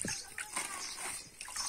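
Water sloshes and splashes in a container holding ten litres of water being prepared with salt for seed treatment on a farm, short close splatters and trickles under a faint voice.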